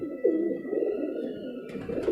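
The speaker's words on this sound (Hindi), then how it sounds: "कबूतरी हल्के बदलू की है" A Rampuri pigeon coos close by, a loud, low rolling call that swells and continues without a break, a faint steady tone lying behind it.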